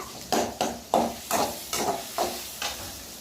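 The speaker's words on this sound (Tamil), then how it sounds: "சிக்கன் போட்டுக்கிட்டு அது பார்த்தீங்கன்னா அதை வதக்கிக்கணும்" Chicken pieces are stirred and sautéed in a hot pan, each stir bringing a sizzling hiss, about seven regular bursts that fade back to a soft crackle between strokes.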